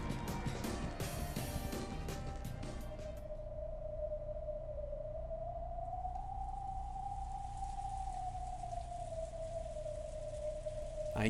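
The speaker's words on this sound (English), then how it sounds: "I can hear the sorrowful sound of the wind, and that must be rain." Rain-and-wind ambience from the visual novel Umineko no Naku Koro ni: a lone whistling wind tone that slowly rises and falls over a constant soft hiss of rain, with no talking.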